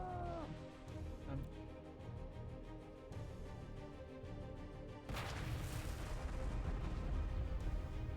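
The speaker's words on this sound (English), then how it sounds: "Oh, there's more artillery, isn't it?" Artillery fire in a space-themed trench warfare video game: repeated booms and blasts of gunfire, growing denser and louder midway, layered over a steady rumbling battle ambience with no speech.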